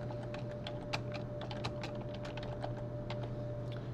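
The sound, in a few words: typing a title on a computer keyboard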